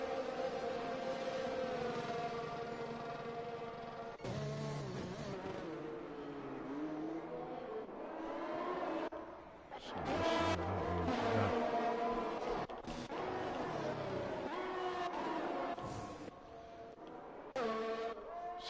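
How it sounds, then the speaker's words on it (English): Racing cars pour out onto the Monza circuit in a video game, engines droning and whining at high pitch in a dense, continuous roar that rises and dips as the pack streams by. "Oh, there's a lot of cars coming out now."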